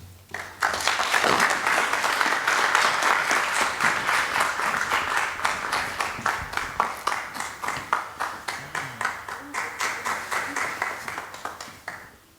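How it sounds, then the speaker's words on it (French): Audience applause that starts dense and loud, then gradually thins into slower, more distinct rhythmic clapping before fading out at the end, with no talk over it. "Je vous prie d'applaudir pour notre héros Michel."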